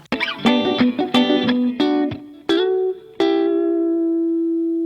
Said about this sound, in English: I guess a lead guitar.